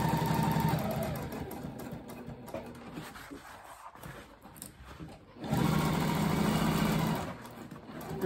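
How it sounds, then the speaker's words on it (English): A sewing machine runs in two close bursts as it stitches a tote bag seam, its steady whirring hum pausing briefly for a pivot before starting up again. "I'm just gonna sew in about a quarter of an inch, and then I'll pivot and continue sewing."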